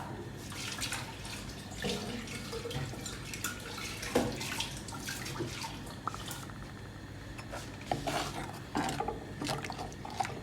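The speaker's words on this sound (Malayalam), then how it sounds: "ഇനി നമുക്ക് മിക്സി ഒന്ന് ഒലുമ്പാം" Water splashes and swishes steadily inside a mixer-grinder jar being rinsed, with occasional knocks and rattles, continuous and fairly close.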